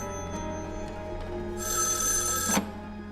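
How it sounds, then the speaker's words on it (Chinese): A telephone rings indoors with a steady electronic bell trill, starting midway and sounding for about a second before cutting off, heard over a quiet background hum. "哦，我先接个电话。"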